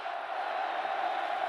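Steady roar of a college football stadium crowd at Oklahoma vs Texas Tech in 2007, a dense, continuous wash of cheering with no breaks, loud and sustained throughout.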